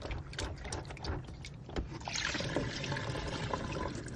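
Soaked food is washed by hand in water, with continuous sloshing, trickling and splashing, close and steady, growing busier partway through.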